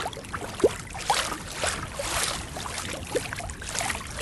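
A kayak paddle dips and strokes through calm water above the wreck of the Portland, soft splashes and drips at an irregular rhythm over a quiet wash of water, close and fairly faint, with no voices.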